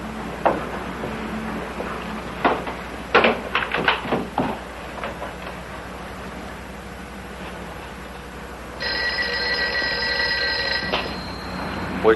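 An old-style telephone bell rings in bursts through a room, the rings sitting among brief knocks and clatter, with a steadier tonal ring in the latter part and no speech.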